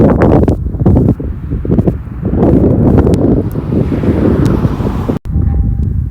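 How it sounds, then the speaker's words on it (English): Strong wind buffeting the microphone on a hike in Red Rock Canyon, loud rumbling gusts that rise and fall with brief lulls, alone without talk. "So it's really windy right now."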